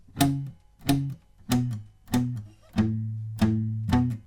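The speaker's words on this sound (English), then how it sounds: "So with the palm muting, it will sound like this." A palm-muted electric guitar riff: thick, chunky chord stabs in a steady pattern, damped and punchy with a dull low thump, played alone.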